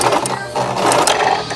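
A sewing machine stitching fabric while upcycling clothes, its needle running in a quick, steady mechanical chatter that briefly pauses then resumes, close and fairly loud with no voice over it.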